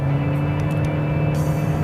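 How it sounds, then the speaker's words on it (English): A 2015 Toyota RAV4 hybrid engine accelerating while its CVT gearbox holds it at constant revs, giving a steady, loud, monotonous drone with no gear changes throughout. "this CVT gearbox holds the engine at constant revs if you come up to a long hill or if you accelerate"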